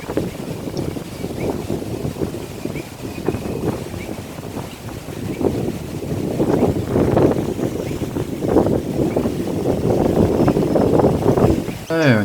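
Strong gusts buffet the microphone outdoors at a waterside spot while bird watching for wood ducks, a loud continuous rumbling whoosh that swells and fades unevenly throughout, with a person speaking over it.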